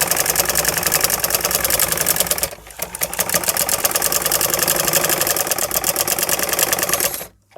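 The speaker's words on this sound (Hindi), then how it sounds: "तो ये देखिए फ्रेंड्स, अब हम इसकी सिलाई लगा रहे हैं।" A sewing machine stitches a velvet kurti in a steady, loud, fast run. The whirring briefly dips near the middle, then resumes until it stops at the end.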